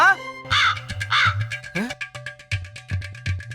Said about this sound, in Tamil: காக்கா நமக்கு பதில் சொல்லுது